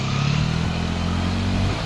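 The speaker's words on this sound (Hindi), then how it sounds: "देखिए दूसरी बाइक पार करा रहे हैं" A motorbike engine drones steadily at low revs while the bike crosses a stream on a rough rural track, close and continuous, with faint clatter and no talking.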